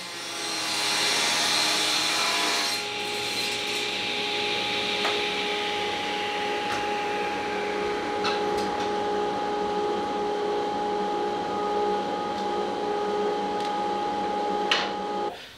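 A sliding table saw rips wood held in a parallel rip jig on a plywood work surface, a loud steady whine with a sustained tone that starts with the cut and runs throughout, close up and alone.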